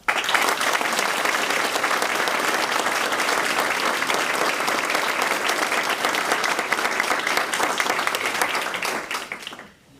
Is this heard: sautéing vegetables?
no